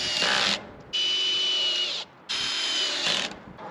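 A power drill drives wood screws into a wooden windmill frame in two sustained, close, whining runs separated by short pauses, ending with a brief ratcheting burst.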